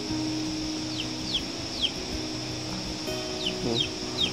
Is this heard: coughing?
no